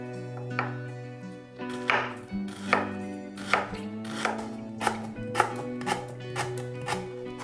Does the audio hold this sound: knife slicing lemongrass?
yes